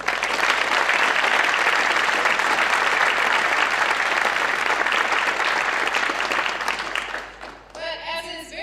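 A large audience at an evening awards ceremony applauds the sponsoring organizations with loud, dense, sustained clapping that fades out near the end, leaving a short stretch of quieter sound.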